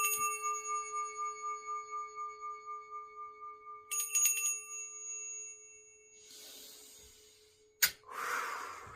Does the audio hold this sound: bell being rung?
yes